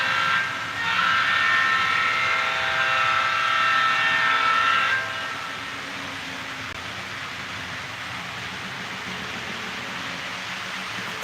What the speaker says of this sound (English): Yep, that's the CN train.